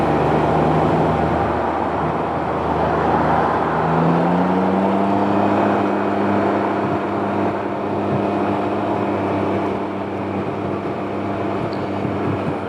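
Dense Dallas road traffic rolls past a rider on a Can-Am Ryker three-wheeled motorcycle, a steady loud engine drone with a rising tonal whine from nearby vehicles, continuous with no speech.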